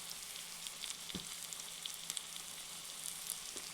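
Tomato masala with a little sugar and sour yogurt is stirred in a pan for matar paneer, giving a quiet, steady sizzle broken by faint scraping knocks of the spoon.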